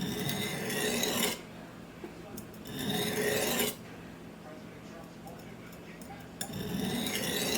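A W-2 steel custom Bowie knife with a hamon is honed on a sharpening stone, giving loud rasping strokes in bursts separated by quieter pauses.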